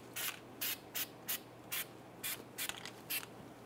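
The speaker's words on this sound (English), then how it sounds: "we're going to apply some anti-seize lube to the face here and a little bit on the splines" A can sprays anti-seize lube onto a 1999-2004 Jeep Grand Cherokee wheel hub face and splines in eight short, crisp hissing bursts with brief pauses between them, close and fairly quiet.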